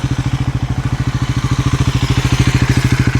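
Bajaj Pulsar NS 400Z motorcycle engine running close by, a loud, steady, rapid exhaust pulse thumping evenly throughout, with no voices.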